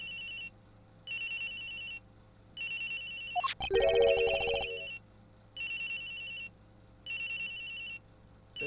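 A cell phone ringtone from the Ace Attorney Investigations video game repeats in steady bursts about once a second, broken midway by a louder musical sting, then resumes ringing.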